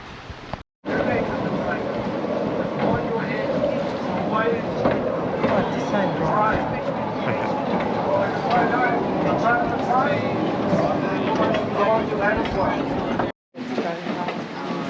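Steady rumbling of a moving tourist train in Western Australia with rhythmic clatter over the rails, continuous and fairly loud, with voices talking over it throughout.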